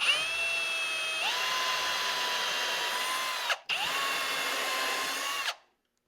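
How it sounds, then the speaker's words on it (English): A power drill whines steadily as it bores into a wooden footstool leg, pitch dropping under load, then a brief pause before a second long run that cuts off abruptly. "I want to drill the full length of the drill bit"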